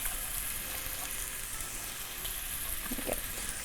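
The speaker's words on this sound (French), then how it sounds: "Donc, dans la même huile, on va mettre les légumes." Vegetables fry in oil in a pan for a vegan coconut curry, giving a steady, close hiss of sizzling with a few brief stirring sounds near the end.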